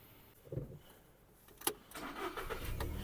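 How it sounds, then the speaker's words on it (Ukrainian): A 2007 Volkswagen Touran 1.6 MPI petrol engine turns over and catches instantly after a key clicks, then settles into a low, steady idle close by. "Автомобіль завівся з півтику"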